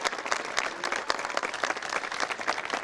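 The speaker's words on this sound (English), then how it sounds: "Round of applause for Mrs." A graduation ceremony crowd gives a dense, steady round of applause, with many hands clapping together at an even volume throughout.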